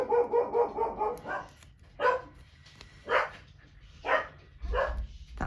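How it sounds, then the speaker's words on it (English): A dog barks inside a house in several separate loud bursts, a quick run of rapid yips first, then single barks spaced about a second apart. "That's not my dog."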